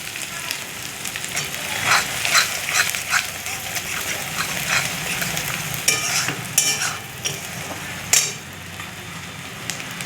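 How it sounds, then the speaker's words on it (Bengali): Turmeric and chili powder fry in a pan while a utensil stirs and scrapes steadily, with soft continuous sizzling and a few sharper clinks near the end. "এটা ভেজে নেব।"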